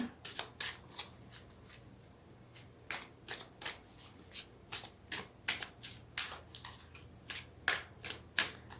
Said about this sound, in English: Shuffle these just a bit more.